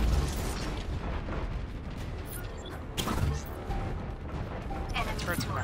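Turret gunfire in the video game Overwatch: a dense, continuous run of rapid bursts and pops with a heavier blast near the middle, loud and close, set among other game mechanisms.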